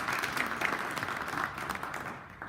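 An audience claps steadily for a panel discussion on rebuilding Minnesota communities, moderate and continuous applause that fades slightly toward the end.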